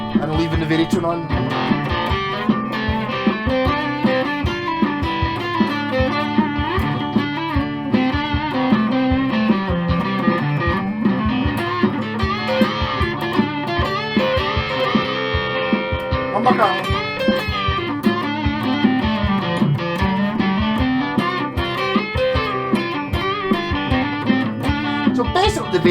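Distorted electric guitar, a B.C. Rich Warlock NJ Series with baritone setting on, playing chords and riffs continuously, gritty and sustained, moderately loud throughout.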